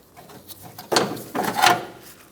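Removing a rear control arm bolt and nut on a 2012-2020 Chevrolet Sonic: two short bursts of metallic ratcheting and rattling come close up after a quiet start, with a small click in between.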